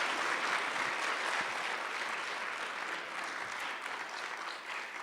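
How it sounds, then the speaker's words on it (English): Sustained applause from a lecture audience, a dense, steady wash of many hands clapping at moderate loudness throughout, with no speech over it. "Give another round of applause for Dr. Daniels."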